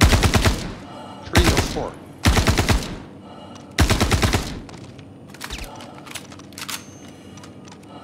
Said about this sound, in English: I'm just shooting the unconscious guards at the moment